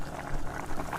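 Boiled kidney beans and their cooking water pour into a cooking masala for a rajma curry, a steady liquid splash and bubbling rush that rises and falls over about a second.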